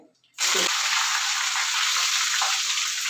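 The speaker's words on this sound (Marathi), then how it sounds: "कोथिंबीर तळून घेऊया" Coriander drops into hot oil and bursts into a loud, steady sizzle that starts abruptly after a brief quiet and keeps hissing close by for the rest of the moment.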